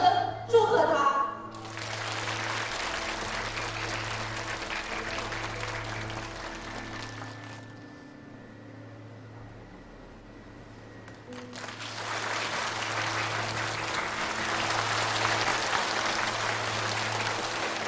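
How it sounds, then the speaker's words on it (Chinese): A crowd applauding the winner of a campus singing contest, sustained warm clapping that dips in the middle and swells again, with a steady musical drone and a voice at the start. "大家用热烈的掌声祝贺他"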